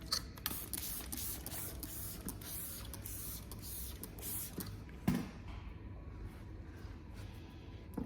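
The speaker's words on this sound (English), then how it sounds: "Using Auto Glim Fast Shine and Lube to lube the paintwork as I spray it." Autoglym Fast Shine lube is sprayed onto the paintwork of an Audi A3 in short, hissing bursts from a trigger bottle, close and fairly quiet.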